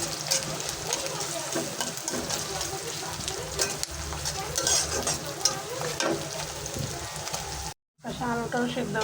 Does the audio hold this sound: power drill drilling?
no